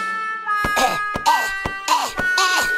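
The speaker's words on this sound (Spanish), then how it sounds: "¡Tose muchísimo!" A series of harsh, repeated coughs, about four bursts in quick succession, loud and close, over a steady electronic tone.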